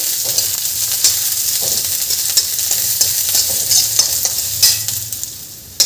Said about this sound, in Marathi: आता याच तेलामध्ये आपण हा कांदा छान खरपूस होतपर्यंत लालसर होतपर्यंत यालाही भाजून घ्यायचं आहे